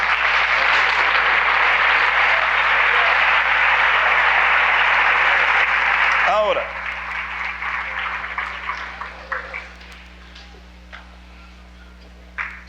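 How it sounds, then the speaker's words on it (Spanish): A Spanish-speaking church congregation applauds during a sermon, dense sustained clapping filling the room for about six seconds before thinning into scattered claps and fading out, with a brief spoken word. "Te den un aplauso al Señor, pues."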